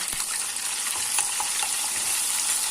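Butter melting and sizzling in a pan for Turkish restaurant-style lentil soup, a steady close crackling hiss with faint scraping of stirring, no talking.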